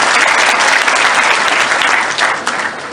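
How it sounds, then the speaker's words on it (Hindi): Dense audience applause fills a meeting hall in Bhopal ahead of a Dussehra festival, loud and sustained, thinning slightly toward the end. "ताली बजा दो"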